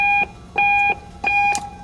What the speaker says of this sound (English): The speaker beeper sends the auto sequence 1K tone to all four bandpasses